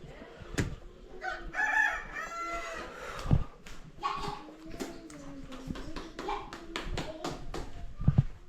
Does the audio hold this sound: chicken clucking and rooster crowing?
yes